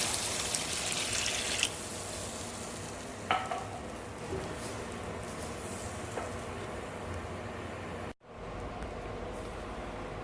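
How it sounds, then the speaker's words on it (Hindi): Frying masala for a homemade Pakistani chicken curry simmers after water is poured in, giving a steady bubbling sizzle with a few stirring knocks and a brief break near the end. "अभी हम इसके अंदर पानी डाल देंगे। मैं इसमें तकरीबन 2 छोटे कप पानी डालने लगा हूँ।"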